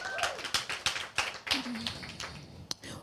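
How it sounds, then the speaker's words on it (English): Scattered hand claps from a small church gathering, about a dozen sharp separate claps spread over a few seconds rather than a full ovation, with faint background sounds between them. "I know that deserves a round of applause."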